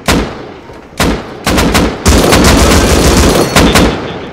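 AK rifle fire in the survival game Rust during a raid: loud, close shots crack out singly, then run into a rapid continuous burst, with no voices.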